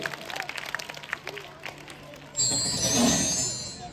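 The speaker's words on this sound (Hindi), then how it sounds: "बिल्कुल सही जवाब, जोरदार ताली" After a host's speech, a school quiz show audience breaks into loud, sustained applause and cheering for a correct answer at Gyan Vatika Vidyalaya's Kaun Banega Champion program. The burst starts suddenly and holds steady to the end.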